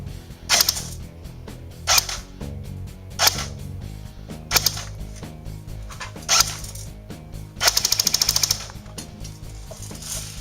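A Classic Army SAW airsoft gun running on a 7.4 LiPo battery fires loud, close bursts: several short separate shots followed by a rapid full-auto string near the end.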